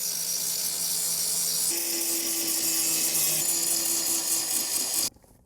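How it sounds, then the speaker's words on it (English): A steady, loud power grinder works metal on the subframe of a 1976 MGB, its high whine holding continuously for about five seconds before cutting off abruptly, with no voices present. "I'm gonna grind on that and see if it looks any good."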